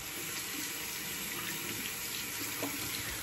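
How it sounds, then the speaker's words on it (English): Water runs from a tap over a shaving razor as it is rinsed, a steady near splashing stream with light clinks, no talk. "as I'm rinsing it off, there's hair everywhere"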